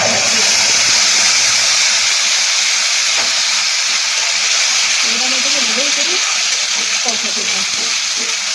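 Potatoes and ground spice paste frying in a pan for an egg curry, a loud continuous sizzle and hiss close up, with someone talking beneath it in the second half.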